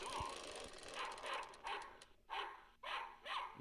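A pet dog barking in a home recording, a run of several quick barks with short gaps between them, fairly close and clear over a noisy background.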